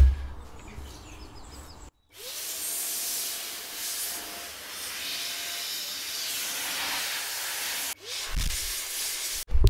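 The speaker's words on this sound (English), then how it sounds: "You spray it into here as well, into the CPU fan." Compressed air sprayed into a laptop's CPU fan and gaps, a steady loud hiss lasting about six seconds, cutting off briefly, then a short burst near the end.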